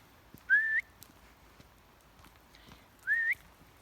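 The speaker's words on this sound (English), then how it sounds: "Every so often you hear whistling noises." Two short rising whistles from a person, spaced a couple of seconds apart, clear against a quiet background.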